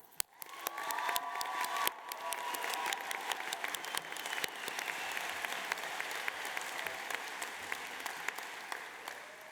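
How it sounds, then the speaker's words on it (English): Audience at a London College of Fashion graduation ceremony applauding the staff, a dense sustained round of clapping that fills the hall, with a few faint cheers, no talk. "join me in a round of applause for our staff"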